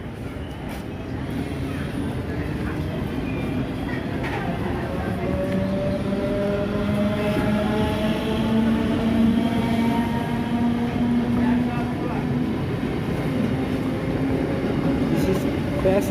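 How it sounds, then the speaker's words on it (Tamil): Loud rolling rumble of a local train pulling out of a station, with rising tonal hums from the motors as it gathers speed, continuous throughout. "நம்ம வந்து லோக்கல் ட்ரெயின் இதெல்லாம் கிளம்புது"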